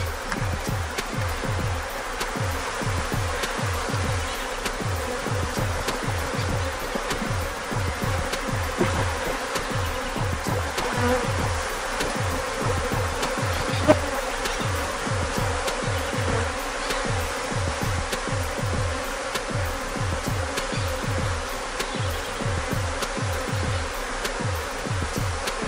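A honey bee swarm buzzes at a hive in a dense, steady drone of many wings that fills the whole stretch close by, with no voices.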